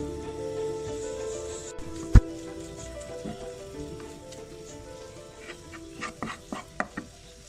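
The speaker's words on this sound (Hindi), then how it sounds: "अब मज़ीद मैं इसे सिर्फ 5 मिनट भूनती हूँ जब तक कि बेसन की अपनी खुशबू ना आने लग जाए" Gram flour (besan) roasting in a pan for laddoos, a steady low sizzle with a sharp knock and, later, a run of spatula scrapes and taps stirring it.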